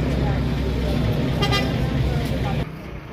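A bus pulls into a busy bus stand in Pakistan and sounds its horn in short toots over rumbling engines and traffic noise, with voices talking close by.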